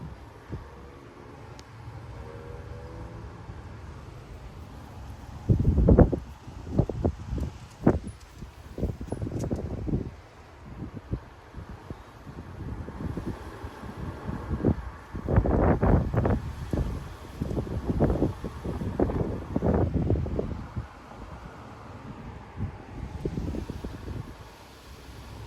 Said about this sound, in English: Yeah, these gusts are just insane.